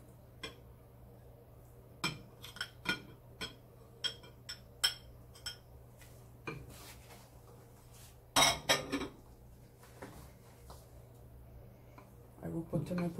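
A spoon stirring chopped peppers and olives inside a mug, producing scattered sharp clinks against the ceramic and a denser burst of scraping midway, close and clear over a quiet background, with no one speaking.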